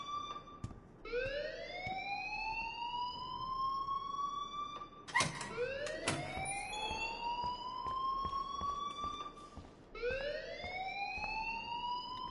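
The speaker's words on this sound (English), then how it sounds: "please turn off that alarm since that's your job" An alarm rings in the video game Life Is Strange: a loud electronic siren whose tone sweeps upward, repeating roughly every four to five seconds, with no talking over it.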